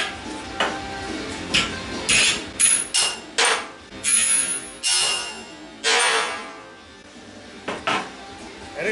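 Hammer blows strike hardened 5160 spring steel during destructive testing, giving about a dozen sharp, ringing metallic impacts at irregular intervals, loud and close, with brief quiet gaps between strikes.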